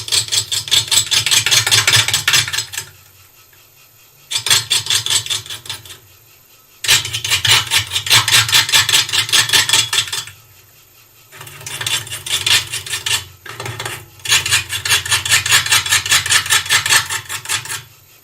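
Wood turning on a lathe gives a loud close scraping and rasping as the tool cuts the spinning piece, coming in several long bursts a few seconds each, separated by short quiet gaps where the low motor hum remains.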